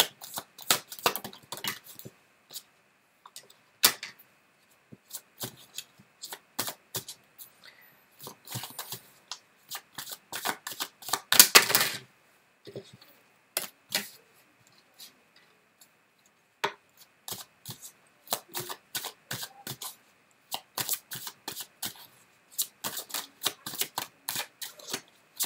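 Tarot cards shuffled by hand in repeated crisp riffles and slaps, some single and some in quick bursts, with gaps of silence between them and no talk.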